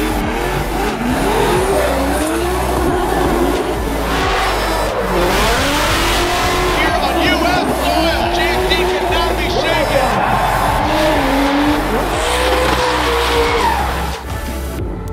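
Formula Drift race cars slide sideways with long screeching tire squeals over roaring, revving engines, loud and continuous across the clip, with a voice talking over the action.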